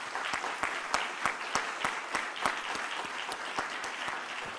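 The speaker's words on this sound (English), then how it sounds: "I think our speakers deserve a big applause." Conference audience applauds the speakers, a fairly sparse, moderately distant patter of individual claps with some distinct sharp hits, steady for several seconds.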